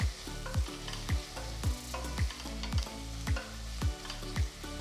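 Thinly sliced onions fry with cloves, cardamom, star anise and a bay leaf in a pressure cooker for tomato rice. A steady close sizzle runs under a regular rhythm of a spoon stirring and scraping, with no talk.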